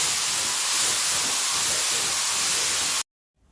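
Rust-Oleum chrome spray paint hissing out of an aerosol can in one continuous, loud, close spray that cuts off abruptly near the end.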